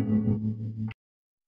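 Chopped electric guitar loop with a pitch-shifted final slice and fades on the cuts, a sustained guitar tone that ends on a short brighter shifted blip and then stops cleanly into silence.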